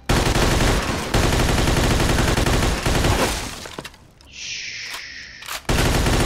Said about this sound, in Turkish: Biri pompalı sıkıyor